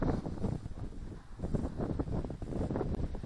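Strong wind gusting across the microphone outdoors during a flight of an XK Detect X-380 drone, a steady rough low rumble with swelling buffets throughout, loud and close, with no talk.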